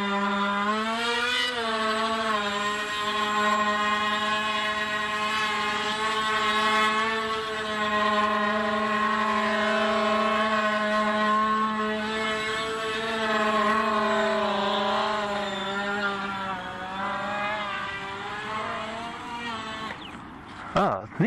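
Motors on a foamboard VTOL tail-sitter model aircraft scream at high throttle, a strong, steady, buzzing whine that wavers slightly in pitch for about twenty seconds before cutting off abruptly.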